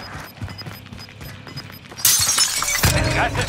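Glass windows shatter in the video game Warzone, a sudden bright crash of breaking panes following quieter in-game footsteps and movement, with a second burst of crunching debris.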